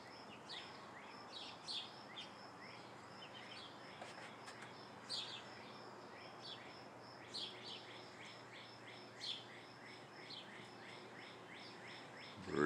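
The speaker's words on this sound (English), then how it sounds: "Birds are singing." Birds chirp and sing faintly in the distance on an evening around 8:30 p.m. Scattered short calls rise over a soft, steady outdoor background, and no one speaks.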